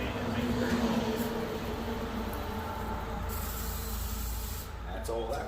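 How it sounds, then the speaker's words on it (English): A continuous hissing spray from an aerosol degreaser can onto the 4.3-liter engine of a 2003 Chevy S10, steady and close, with faint rubbing and clatter near the end. "You just want to spray this stuff on the things that look dirty."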